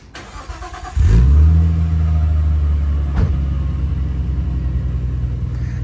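A Nissan Micra engine cranks and catches about a second in, then settles into a loud, steady, close-up idle rumble with a slight rise near the end.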